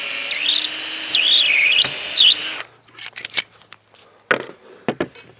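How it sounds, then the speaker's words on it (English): A power drill bores a 3mm hole into a cutting station workpiece, a rising and falling whine for about two and a half seconds, followed by sharp clicks and handling knocks of the clamp and drill. "reclamp that to be on the safe side, and then drill my final 3mm hole"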